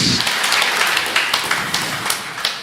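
A church congregation at a JMCIM preaching service claps loudly and steadily for a few seconds, a dense ripple of many hands with sharp individual claps standing out.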